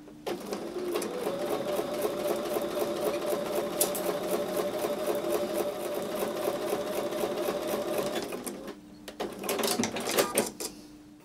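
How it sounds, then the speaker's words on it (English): A sewing machine stitches a quilt block seam in a fast, steady mechanical whir, pausing briefly before a few short final bursts. "We're going to take that back over to the sewing machine"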